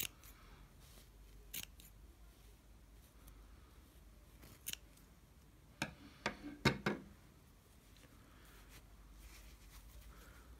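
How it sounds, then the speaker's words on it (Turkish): Scissors snip through yarn to trim a pompom, a few sparse crisp cuts early, then a quick cluster of louder snips in the middle, over a quiet room background. "bakın şöyle makasla keserek"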